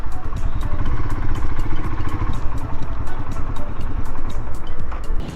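A Royal Enfield Himalayan motorcycle is ridden with a steady, loud engine drone and rumble, heavy rushing wind and regular ticking clatter throughout.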